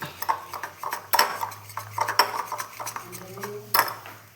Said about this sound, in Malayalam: ഞാൻ പഞ്ചസാര ഇട്ട് കൊടുക്കുന്നുണ്ട്